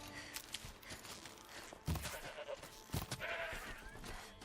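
Goat bleats in the Horizon Zero Dawn game world, a few short bleating calls with footsteps and ambient game sounds, moderately loud and close, no talk.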